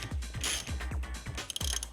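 A big crescent wrench turns a 24mm socket to tighten a bushing press on a 2001 Subaru Impreza RS, giving a run of repeated, regular ratcheting clicks close up, with a brief sharper clatter near the end.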